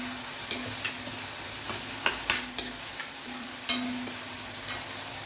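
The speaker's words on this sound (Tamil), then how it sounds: "இந்த பொடலங்காய் விதையும் ஆனியன் நல்லா வதங்கட்டும்." Snake gourd seeds and onion fry in a pan with a steady, close sizzle, broken by occasional scraping knocks of a spoon stirring.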